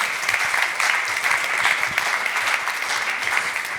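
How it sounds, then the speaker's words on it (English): Audience applause at a health care plenary session, dense even clapping from a large crowd continuing steadily throughout. "Oh my God, round of applause, round of applause."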